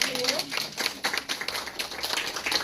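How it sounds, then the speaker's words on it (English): A round of applause for St. Jude Children's Research Hospital staff at a Thanks and Giving event, steady crowd clapping with a dense patter of hands throughout, mixed with background voices. "why don't we give a round of applause to the St. Jude staff here"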